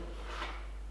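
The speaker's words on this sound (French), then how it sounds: "avec le Trusquin, on a tracé les deux traits" A marking gauge is drawn along an old wooden entrance door to scribe a line, giving a short scratchy rasp that swells and fades over a steady low hum, with no talk.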